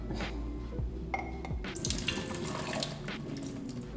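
Hot water splashes steadily into a vessel for coffee, a continuous pouring sound with shifting gurgles, close and clear, no voices.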